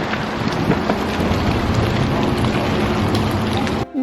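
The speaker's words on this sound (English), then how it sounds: "you can stand here and listen to the wind playing the ice-coated trees" Steady wind blows through ice-coated trees on a cold winter day in Stratford, Ontario, a continuous loud rushing roar buffeting the microphone before cutting off abruptly at the end.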